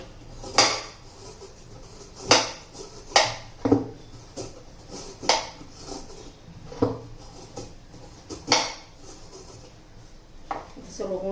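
A block of jaggery being chopped with a knife on a board, giving a dozen or so sharp, irregular knocks spaced about a second apart, close by, with someone talking over them.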